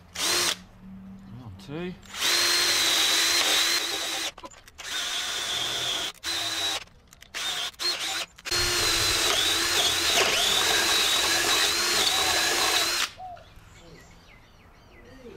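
A power drill runs loudly in long sustained stretches with brief pauses, close up, while a person briefly counts aloud over it.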